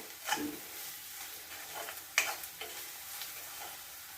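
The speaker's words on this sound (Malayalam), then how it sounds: "അപ്പം ഇതൊന്ന് ഇളക്കി കൊടുക്കുക" A spoon scrapes and stirs garam masala frying in a pan for a liver roast, with soft sizzling throughout and a few sharp clinks against the pan.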